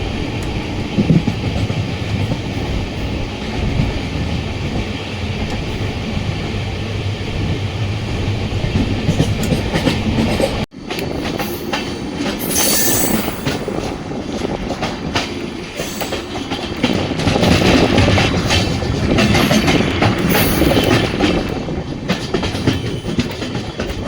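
The Siddaganga Superfast Express with new LHB coaches rolls along the rails near Ajjampur on South Western Railway, a steady loud rumble with rhythmic clickety-clack and a brief break partway, with no talking.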